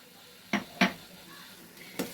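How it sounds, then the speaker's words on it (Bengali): A spoon clinks and scrapes against a pot while garam masala is stirred into an egg curry, three short distinct knocks spaced apart over quiet background. "এবার ভালো করে এটাকেও মিশিয়ে দিচ্ছি।"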